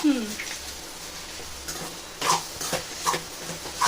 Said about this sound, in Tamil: நல்லா அப்படியே கிளறி கொடுத்துடலாம்